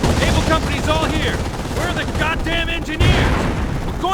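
Battle gunfire in the video game Company of Heroes during the Omaha Beach landing: dense rapid rifle and machine-gun bursts with booming explosions, continuous and loud, with soldiers shouting over the din.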